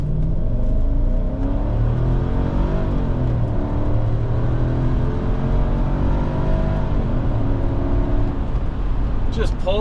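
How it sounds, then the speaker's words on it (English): A 2001 Mercedes-Benz ML55 AMG with its 113 V8 launches down a road, the engine note rising in pitch as it pulls through the revs, loud and close, ending with a brief higher burst. "We'll give it a quick launch down this road real fast."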